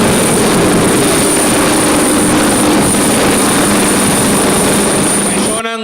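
A police helicopter flies close overhead, its loud, steady rotor and engine roar filling the whole stretch before cutting off abruptly at the end.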